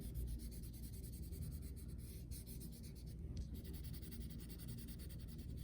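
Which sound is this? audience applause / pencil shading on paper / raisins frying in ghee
pencil shading on paper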